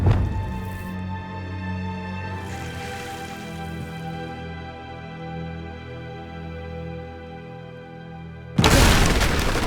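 Confringo spell in the Hogwarts Legacy video game, a loud burst followed by a long ringing magical tone with layered harmonics that slowly decays, then a second sharp blast at the end.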